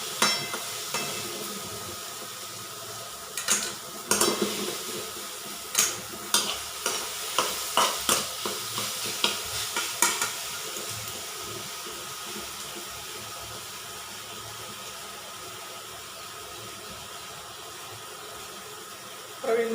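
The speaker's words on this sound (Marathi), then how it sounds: "हे वाटण घालते मी त्याच्यात. ते पण चांगलं परतून घेते" Ground masala paste sizzles in hot oil in a pan with tomato while a spoon stirs and scrapes in a rapid run of knocks, over a steady frying hiss that continues alone afterwards.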